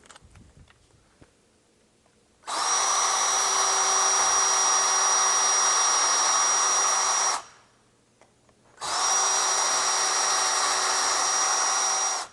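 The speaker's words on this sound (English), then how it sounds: "Now I'm going to need a pre-drill for the long screws." A power drill pre-drills holes for long hinge screws in a door, whirring steadily for about five seconds, pausing, then running again for several more seconds, loud and close.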